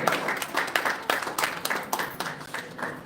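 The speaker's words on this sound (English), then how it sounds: "big round of applause for Divya Ranjan Behra" Scattered applause from a seminar audience at a valedictory session, individual claps distinct and uneven in rhythm, moderately close, fairly quiet, and fading toward the end.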